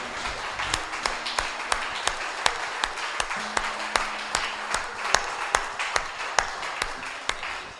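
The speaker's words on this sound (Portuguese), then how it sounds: "Só os guerreiros, aplauda o Senhor" A church congregation claps together in a steady rhythmic beat, sharp evenly spaced claps over a soft hum, with a low sustained tone sounding underneath at times.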